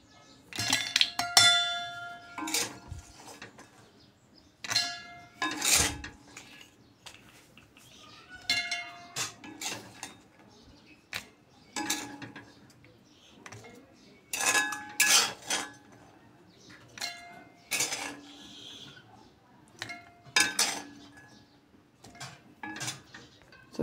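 Cooled raw tomato chutney ingredients going into a mixer jar, a series of sharp metallic clinks and ringing knocks from the jar and a spoon, spaced irregularly over quiet pauses.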